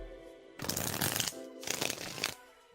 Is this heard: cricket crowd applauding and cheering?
no